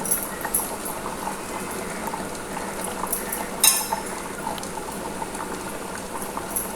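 Kudal kuzhambu, a thick intestine curry, bubbles and simmers in a pot, a soft steady burble of boiling with occasional light clinks of utensils against the vessel.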